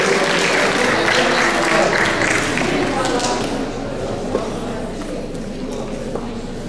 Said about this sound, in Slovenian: En aplavz, prosim, ja.